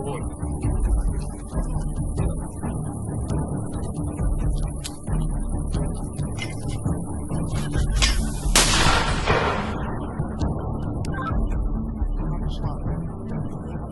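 Heavy, booming thuds of M60MA mortar fire during combat near Kupiansk sound amid continuous low rumble, with one loud blast standing out near the middle and voices faintly underneath.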